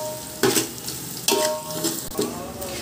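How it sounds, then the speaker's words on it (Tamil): Sliced onions sautéing on high flame toward golden brown for a Pondicherry chicken biryani, with a constant sizzle and a few sharp spatula scrapes against the pan at intervals, near and clear with no talk. "இன்னும் 1-2 minutes போல் ஹை ஃப்ளேமில் நம்ம வதக்கி விட்டோம்னா கோல்டன் ப்ரௌனுக்கு வந்துடும்"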